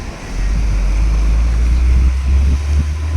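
Water spraying and crashing as waves surge at a Thai seaside spot, a steady loud wash of splashing and surf with heavy wind rumble on the microphone throughout.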